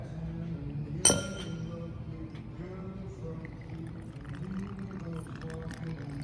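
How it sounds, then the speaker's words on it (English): Cachaça, a Brazilian sugar cane rum, is poured into a glass: a single sharp clink, then a soft, low trickle of liquid runs for several seconds at a quiet level. "And then we're going to add a little Cachaça, which is a Brazilian rum"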